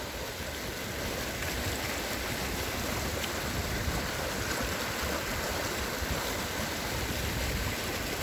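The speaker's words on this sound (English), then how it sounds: "This is all snow runoff coming down here" Snow runoff rushes down a mountain creek in a steady, broadband wash of flowing water that stays close and continuous without a pause, with no voices over it.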